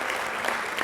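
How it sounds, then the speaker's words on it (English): An audience at a youth summit keynote claps, a dense, steady wash of applause throughout the short moment. "Can we give them a nice big round of applause, actually?"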